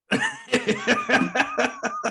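A short burst of repeated coughs and throat hacks, about seven rough spasms in quick succession, close and fairly loud.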